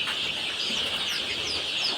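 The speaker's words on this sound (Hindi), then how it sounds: "ये मुर्गी है, मुर्गी के सब बच्चा हैं।" Chickens and chicks on a poultry farm cluck and cheep together in a busy, continuous chorus of high peeps and short clucks, fairly close.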